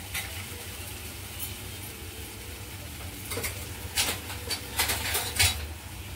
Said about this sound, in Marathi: आणि ग्रेव्ही चांगली परतून घ्यायची